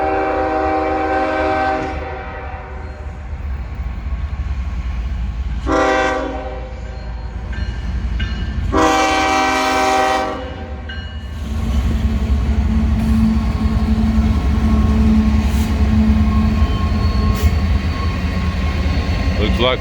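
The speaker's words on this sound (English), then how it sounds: "This is the northbound Norfolk Southern," A northbound Norfolk Southern intermodal freight train passes at Athens, Tennessee. It sounds several loud horn blasts early on, then a heavy, continuous rumble and rattle of wagons rolling by close up.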